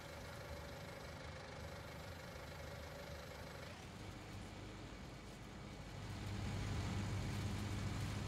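A tractor engine idles in the video game Farming Simulator 19, a low, steady drone at very low volume with no talk. The rumble grows somewhat louder and fuller toward the end.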